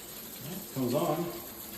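Water bursts from a shower head at a weird installation and splashes off a small shelf, a faint hiss that jumps up suddenly and keeps running for about a second, recorded from nearby during a home inspection.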